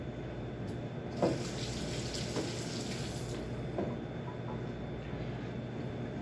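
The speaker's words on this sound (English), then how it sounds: "just going to rinse my blade off here" Water from a kitchen tap runs steadily over a knife blade as it is rinsed, a continuous broadband splash close by with a few brief louder splashes, no talking.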